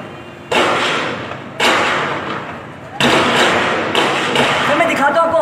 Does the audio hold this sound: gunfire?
yes